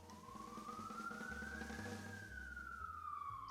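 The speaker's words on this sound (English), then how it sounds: "Can you guys hear the siren?" A siren passes outside, faint and distant, its tone slowly rising and then falling away over low indoor background hum.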